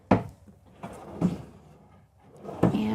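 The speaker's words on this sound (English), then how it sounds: "So more full extension cabinet drawers" Full-extension cabinet drawers in a 2023 Newmar Kountry Star 3717 motorhome, opened and shut several times, each slide ending in a soft thud, moderately close with quiet gaps between.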